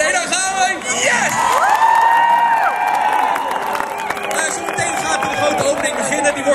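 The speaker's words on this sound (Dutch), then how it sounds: "Dus alvast een heel groot applaus voor jullie zelf, voor Enschede." Large outdoor crowd on a town square in Enschede applauding and cheering, with whoops and shouting voices rising over continuous clapping, loud and lively throughout.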